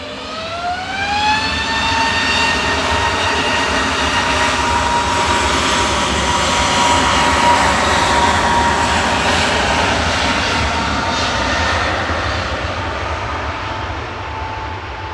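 A jet airliner takes off at Manchester Airport, its engines climbing in a rising whine that settles into a loud, sustained roar, close and filling the air, then fading slightly toward the end, with no voices.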